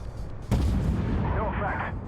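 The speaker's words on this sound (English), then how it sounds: "There's 2 more blind shots" Blind tank gun shots in the game Armored Warfare: one sudden heavy cannon boom lands midway, followed by a sustained rumbling roar, with a voice talking over it.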